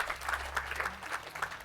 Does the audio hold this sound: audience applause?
yes